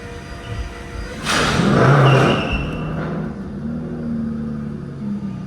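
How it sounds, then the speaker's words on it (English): Aston Martin Vanquish being pull-started while stuck on a car lift: a loud rushing whoosh and rumbling engine turnover build, then settle into a lower steady running drone. "It's definitely turning the engine over."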